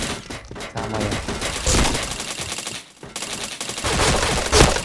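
Sustained automatic gunfire in a shooting video game, loud and dense with bursts swelling and briefly dipping, no talk heard over it.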